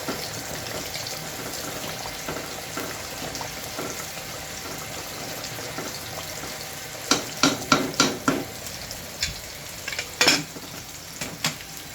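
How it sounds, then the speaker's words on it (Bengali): Beef and potatoes fry in a pan for alughati while a utensil stirs them, a low steady sizzle that is later broken by a cluster of sharp scraping and clinking strokes against the pan. "আমাকে নেড়ে দিতে হবে, কারণ আলুটা নেড়ে যাবে, লেগে যাবে।"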